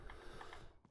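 A weapon reloads in a video game with a quick, faint run of mechanical clicks and ratcheting clatter, ending in a short snap.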